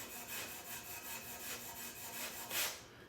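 A Scotch-Brite pad wrapped around a part is scrubbed back and forth with quick, steady sawing strokes that scuff the surface. The rasping is faint and continuous, with no voices.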